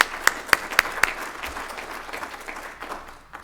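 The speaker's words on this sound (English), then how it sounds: "Let's give them a great round of applause." Applause at a business speaker-series event for its partners, opening with several sharp, distinct claps up close, then settling into a thinner, scattered patter that fades away.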